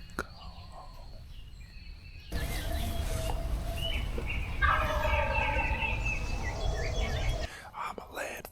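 Wild turkeys gobble in the Illinois woods during a spring turkey hunt, several rattling calls at mid distance rising over a steady outdoor background, with whispering voices nearby.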